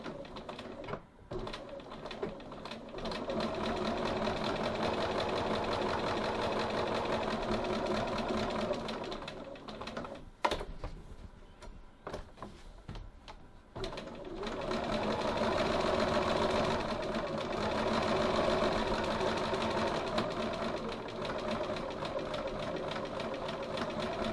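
Sewing machine top stitching a pocket at a 3 mm stitch length, a dense continuous mechanical whir running almost throughout, with a brief pause around the middle before resuming steadily.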